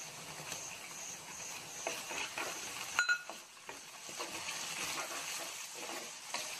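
Chopped tomatoes hitting a pan of sautéed ginger-garlic bring a soft steady sizzle and faint stirring scrapes, with a brief clatter partway through.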